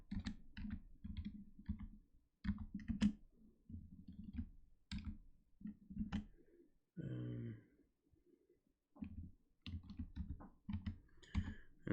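Computer keyboard typing in bursts of rapid clicks separated by pauses, close and clear, with a short throat sound in the middle.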